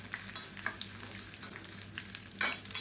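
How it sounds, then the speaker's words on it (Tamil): Washed, dried curry leaves fry crisp in hot oil, a continuous close crackling sizzle with sharper pops and a louder burst near the end. "கருவேப்பில நல்லா கழுவி காய வச்சு வச்சுருக்கேன் அதை சேர்த்துக்கலாம் இது வந்து நல்லா அப்படியே முறுமுறும் பொரிச்சு எடுத்துக்கலாம்"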